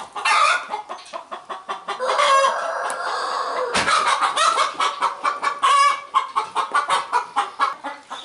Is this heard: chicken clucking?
yes